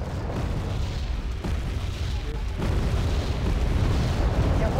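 Missiles launching and exploding in the Wargame strategy game produce a continuous low rumbling roar of blasts and booms, loud and sustained, growing heavier toward the end.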